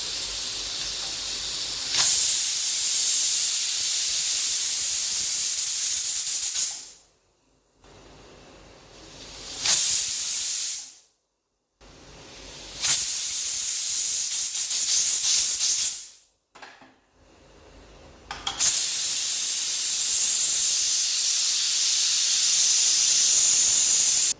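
Loud, sustained hissing of steam venting from a pressure cooker on high flame, broken by a few short pauses, then resuming strongly; no voices.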